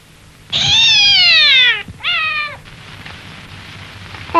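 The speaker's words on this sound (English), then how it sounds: "Poor kittens." Hungry kittens meowing loudly and close, one long drawn-out cry followed by a shorter one, then a brief start of another at the end, with no talking.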